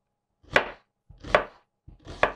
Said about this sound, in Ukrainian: І так, цибулю до квасолі такими півкільцями наріжу.